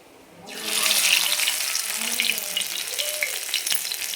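Alu vadi pieces are laid one by one into a hot pan over a medium flame and set off a steady, loud sizzle of frying that rises after a brief quiet start and keeps going.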